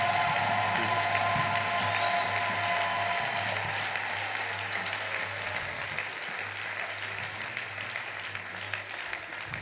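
A church congregation applauding together, dense sustained clapping that fills the space and gradually thins toward the end, with a low hum underneath.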